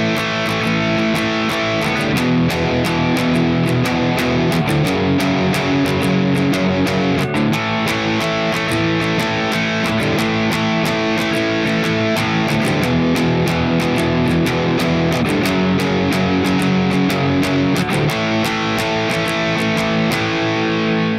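Distorted electric guitar plays the interlude chords of a song, with loud, steady strummed power chords in a driving rhythm and no voice.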